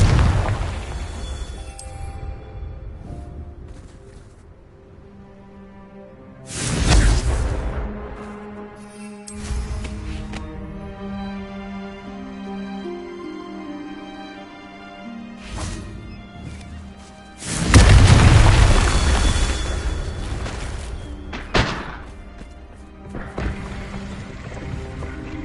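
Confringo fire-spell explosions in Hogwarts Legacy, with two loud, broad fiery bursts spaced apart amid quieter magical ambience and ringing tones.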